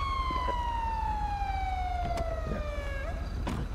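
A police car siren in a video game sounds a single falling wail that sweeps down steadily, then cuts off with a brief upturn, over a constant low engine rumble.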